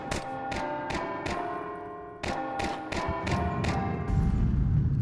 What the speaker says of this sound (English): Now you're playing the bells.